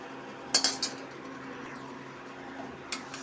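Peeled seeds dry-roasting in a kadhai with no oil, a few sharp metallic clinks of a utensil against the pan near the start and once more near the end, over a faint steady background hiss.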